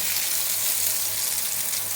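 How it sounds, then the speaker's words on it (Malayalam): Brinjal slices frying in a pan, a loud, steady, close sizzle with continuous crackling and no voices. "ഇതിലേക്ക് എല്ലാ വഴുതനങ്ങ കഷ്ണങ്ങളും ഇങ്ങനെ വെച്ചിട്ട് ഒന്ന് വറുത്തെടുക്കാം കേട്ടോ"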